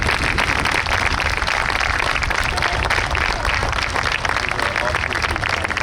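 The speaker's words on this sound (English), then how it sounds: "we think it's those guys that deserve a real round of applause this afternoon" Outdoor crowd at a New York State Police special operations exhibition applauds fallen troopers, a dense, steady wash of clapping that holds loud for the full stretch with murmuring voices mixed in.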